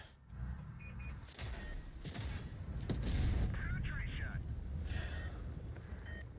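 A Sheridan tank cannon fires in a video game, heard as booming shots and a rumbling engine, with mechanical clanks over a continuous low drone.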